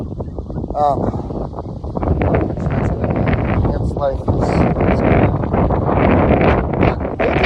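Wind gusts across the microphone outdoors in a continuous rough rumble, with a person speaking over it.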